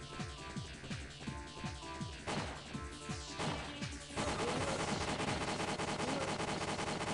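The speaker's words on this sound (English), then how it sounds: "Do we just have to shoot him with the turret?" Gunfire from a turret in the video game WinBack, a rapid run of sharp shots with game music and effects underneath, then a denser, louder burst of continuous firing in the last few seconds.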